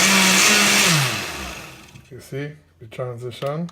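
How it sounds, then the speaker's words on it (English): An electric blender switched on while pureeing ingredients for coo coo, a loud whirring motor that winds down and stops, followed by a person talking. "I just got this blender about a month ago"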